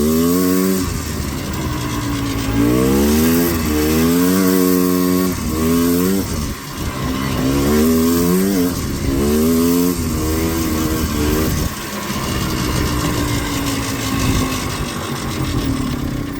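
Four-wheeler ATV engine revving hard during wheelies, loud repeated rising and falling throttle sweeps that climb in pitch several times, with a brief drop-off partway through, close and dominant with no talking.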